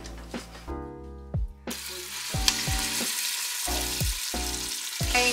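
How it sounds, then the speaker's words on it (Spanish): Chicken frying in a pan for Peruvian arroz con pollo, a constant sizzle running under intermittent tonal beeps and clatters from the kitchen. "Primero vamos a freír el pollo."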